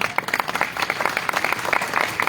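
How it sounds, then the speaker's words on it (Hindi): An audience claps at a Buddhist talk in Jammu, with brisk, dense applause that swells and rises in clear bursts throughout, fairly loud and with no speech over it. "एक बार ताली बजा के देखना, बजाना।"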